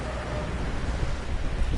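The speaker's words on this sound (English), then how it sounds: "See, it's pouring down rain." Heavy pouring rain with low thunder rumble on a planet in No Man's Sky, a steady dense wash of sound with no talk over it.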